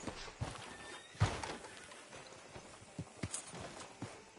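Horse hooves in a PS4 video game clip-clop at a slow walking pace, a string of soft thuds with a couple of louder knocks, fairly quiet with no talking.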